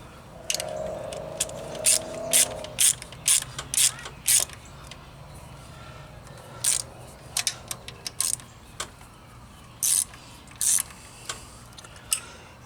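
A wrench runs down the rocker arm bolts on a Jeep 4.0 engine, giving close, sharp metallic clicks and ratcheting bursts in irregular clusters, with a brief creak early on and no talking.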